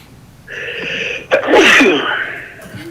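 A single loud, close sneeze with a sharp intake before the burst, alone against quiet room tone.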